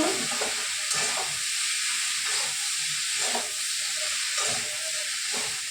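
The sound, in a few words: ash gourd frying and being stirred in pan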